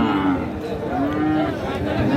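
A crossbreed bull calf lows at a busy cattle market, drawn-out moos rising and falling amid crowd chatter and nearby talking.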